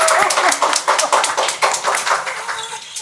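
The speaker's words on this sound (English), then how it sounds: "Let's give them a round of applause." Audience applause after a performance by a group playing instruments, a dense patter of many hands clapping steadily at close range for a few seconds, with no one speaking over it.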